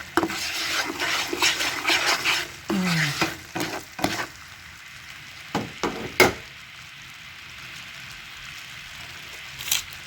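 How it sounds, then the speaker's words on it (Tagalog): Caramel melting with butter for caramel popcorn is stirred in a pan, with a spoon scraping and sizzling in uneven strokes, then a few sharp knocks before it quiets to a faint hiss. "Haluin nyo lang ng haluin."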